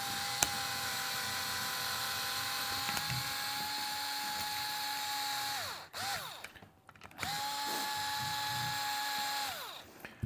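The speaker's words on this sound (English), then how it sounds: "I'm going to use a power screwdriver" A power screwdriver whines steadily up close as it drives a screw into a Cleat Buddie dock cleat base, pausing briefly, then spinning up again in a second long, even burst with no talk.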